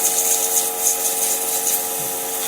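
Sandpaper of 220 grit rubs against a wooden salt cellar box spinning on a lathe, a close, loud, steady hiss laid over the constant hum of the motor.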